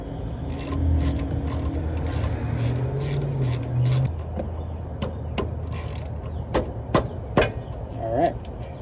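A ratchet tightens the brake caliper bolts on a first-generation 2001–2007 Toyota Sequoia. Quick, close clicking bursts ring out after a few seconds of low workshop hum.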